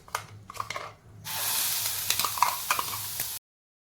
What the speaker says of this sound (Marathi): आता टाकूयात आपण जो मसाला वाटून घेतला होता तो